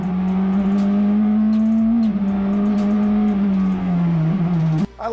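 Praga R1 race car lapping Atlanta Motorsports Park, its engine holding a loud steady drone close by with slight pitch shifts, tire and wind noise ticking over the top, and a sharp drop near the end; no talking.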